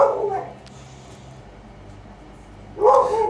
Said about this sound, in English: my dog's making a lot of noise in the background there